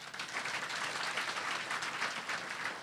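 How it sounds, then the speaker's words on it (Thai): Seminar audience at a Thai business motivational talk claps loudly and continuously, a dense, even wash of applause with no speech over it. "ปรบมือดัง ๆนะคะ"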